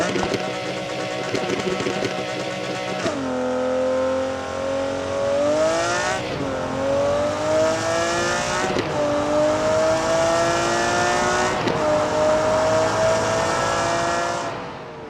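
A McLaren F1 supercar accelerates hard on a timed run, its loud engine note climbing steadily through several gear changes with brief dips at each shift, sustained and close throughout.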